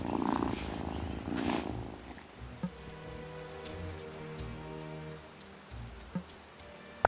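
A cat purrs in the video game Wylde Flowers, a steady low rumbling purr lasting several seconds over soft rain-like background ambience, close and moderately quiet with a couple of small clicks and no talking.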